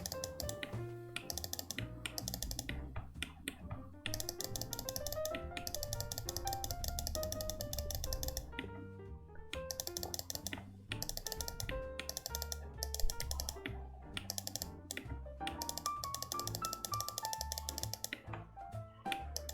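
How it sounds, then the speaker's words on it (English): Rapid computer mouse clicks and keyboard taps while editing a custom GTA V character model, faint, irregular and near, layered over steady background music. "I'm sorry for the clicking, I have to click."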